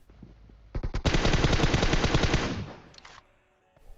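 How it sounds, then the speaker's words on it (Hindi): Rapid automatic gunfire in PUBG Mobile, a dense loud burst of shots lasting about two seconds and trailing off, with a few stray shots afterward. "बहुत फायर दे रहा है इस टाइम पे।"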